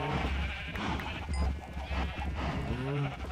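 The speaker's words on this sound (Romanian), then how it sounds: "tot îmi scapă oile pe aici" Sheep bleat in the Minecraft video game, a few wavering cries rising over a busy game soundscape.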